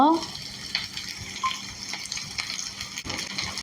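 Onions sautéing in a pan for chicken devil make a continuous close sizzle with some watery, scraping textures and brief clatters, while a voice is heard faintly.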